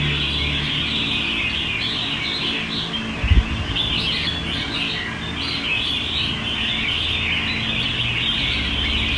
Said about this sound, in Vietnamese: giọng hót của con này cũng rất là gắt, chim thì rất là nhanh nhẹn.